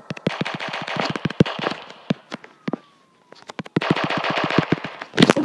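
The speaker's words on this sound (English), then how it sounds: "someone's shooting at me" Automatic gunfire in the Roblox game Prison Life, long rapid bursts of shots with a short quiet gap in the middle, then a final loud burst.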